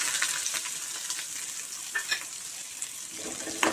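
Shallots sizzle and crackle in hot tempering oil for a tamarind curry with cowpeas and eggplant, a steady close frying hiss with small pops and occasional stirring clicks, no voices.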